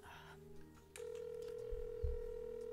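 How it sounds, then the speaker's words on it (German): A telephone dial tone from a phone call in the video game House Flipper: one steady, unbroken tone that starts after a soft click and holds clearly over a low, faint background rumble. "Dann rufe ich den Spacko mal eben an."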